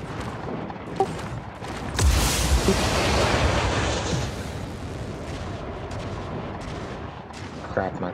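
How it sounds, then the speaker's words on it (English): Heavy gunfire and booming blasts during a bunker assault in the Star Citizen video game, a dense sustained barrage of shots that swells loudly and keeps rumbling, with sharper single cracks near the end. "Someone's shooting at me. Oh no. I'm getting shot at."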